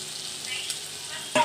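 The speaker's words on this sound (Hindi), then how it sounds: "मैं ये मसाले वाली प्याली में ही पानी डाल के तो इसमें डाल रही हूँ" Kaleji (liver) masala frying in a pan, with water poured into the hot spices. A steady close sizzle runs throughout, and a sharper burst of spitting comes right at the end as the water hits.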